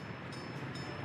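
A train in the Soviet-era city-building game Workers & Resources: Soviet Republic gives off a steady, dense rolling rumble with a faint high hiss, continuous and moderately quiet, with no talk.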